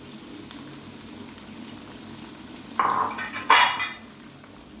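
Chopped onion and ginger hitting hot oil in a pan for fish pickle, a low steady background hiss that swells into two bursts of loud sizzling late on, with a small clink after.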